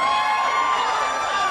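Anime convention audience at Anime LA 2011 cheering and shouting together, a steady wash of crowd noise with whoops that stays loud and even throughout.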